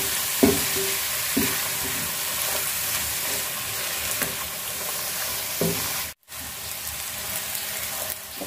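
Taro pieces fry in a spice paste of garlic, turmeric and chili powder for a hilsa curry, sizzling steadily while a spoon stirs and scrapes the pan now and then, with one brief dropout near the end.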